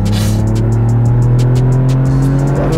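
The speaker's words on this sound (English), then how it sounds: "What a lovely motor." A modified Toyota GR Yaris engine pulling hard on the Rockingham race track, its steady loud drone rising slightly in pitch with a busy mechanical texture, heard from inside the car.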